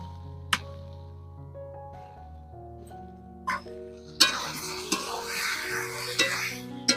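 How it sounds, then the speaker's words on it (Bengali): Jackfruit fried with spice paste and turmeric in a pan, quiet at first with a few sharp clinks, then a dense sizzle begins with stirring knocks against the pan. "এবার আমি ভালো করে কষিয়ে নেব।"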